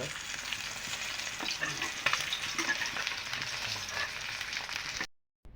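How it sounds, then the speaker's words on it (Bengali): Pieces of pangas fish, heads and bones, fry in a pan with a steady, close sizzle and intermittent stirring scrapes, ending in abrupt silence. "মাছের কাটাগুলি এখন বেজে নেবে"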